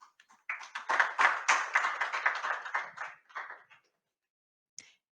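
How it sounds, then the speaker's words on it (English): An audience at a climate-disclosure summit applauds the panelists, a short burst of brisk, close hand clapping that swells, holds for a few seconds and trails off into silence with a final lone clap. "please join me in thanking the panelists for their excellent contribution with a big round of applause."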